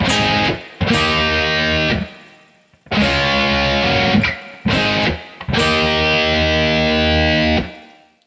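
Distorted electric guitar plays chord riffs, with the second chord hammered on rather than strummed. Loud, thick chords come in four sustained bursts separated by short gaps, and no one speaks.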